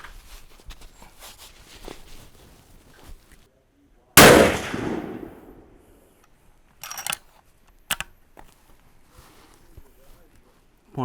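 Single loud rifle shot from a Savage 116 in 7mm Magnum during ladder testing with five-shot groups, a sharp close blast with a decaying tail, followed by a few faint clicks and thumps and some quiet talk nearby.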